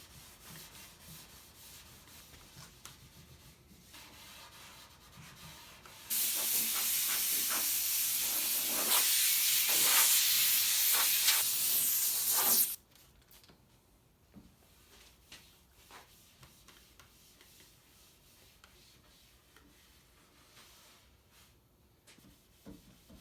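After a quiet start, a loud continuous hiss of an aerosol spray bursts out for several seconds, then cuts off to near silence with small handling noises.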